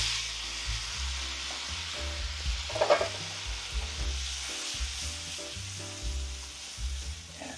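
Butternut squash pieces sizzle in a pan before a bourbon sauce goes in. A moderate, continuous frying hiss runs under intermittent stirring knocks, with a brief louder burst near the middle.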